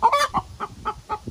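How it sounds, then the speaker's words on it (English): A chicken clucks in a front-yard raised garden bed, a quick series of close, sharp clucks in an uneven rhythm, loud and unaccompanied by talk. "if you can hear me over the chicken"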